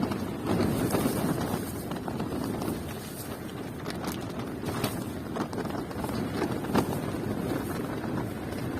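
Strong wind buffets the microphone nonstop, a rough, gusty roar with occasional sharper bursts.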